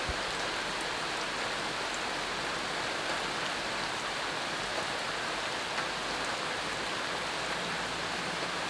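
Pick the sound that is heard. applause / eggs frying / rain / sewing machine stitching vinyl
rain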